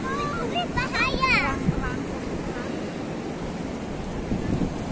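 Surf rolls onto Watu Lawang beach in Gunungkidul, a steady broadband wash with wind buffeting the microphone, while children's voices chatter briefly over it near the start.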